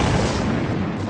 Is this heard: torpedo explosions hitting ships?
yes